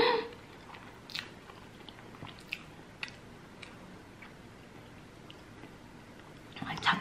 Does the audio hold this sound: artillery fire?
no